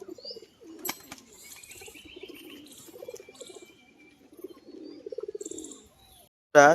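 A red-marked female tumbler pigeon flaps during a display flight. The bursts of wing claps are close and uneven, with soft coos and chirping birds around them, and a loud flutter closes the clip.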